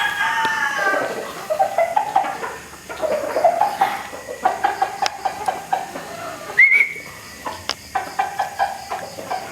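A Possum Sweater gamefowl rooster crows nearby, with several long, wavering calls and some clucking, while other birds chirp and whistle in the background.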